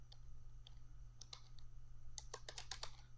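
Quiet keystrokes on a computer keyboard, a few scattered taps at first and then a quicker cluster of clicks, faint and close over a low steady hum.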